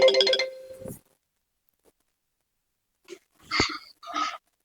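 A phone ringtone chirps loudly for about a second, then cuts off into silence before a voice answers with a few short words.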